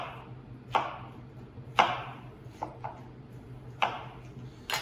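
A knife dices a pineapple into chunks on a cutting board with about five sharp, crisp chops at uneven intervals. The chops are close and moderately loud over a low steady background hum.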